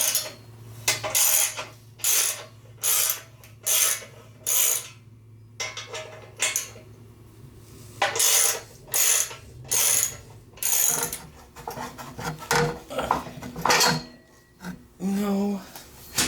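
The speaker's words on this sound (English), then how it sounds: "I take a 9/16 wrench" A 9/16 wrench ratcheting to loosen the bench tube bolts on a flipped-over Shopsmith Mark 4, heard as repeated close bursts of quick metallic clicking separated by short pauses, with occasional clanks of metal parts.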